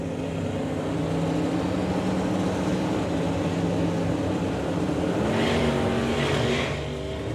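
Drag racing cars, one a Mustang, roar down the strip at a launch, a loud, continuous engine drone with a steady low rumble and a brighter surge near the end, no talk over it.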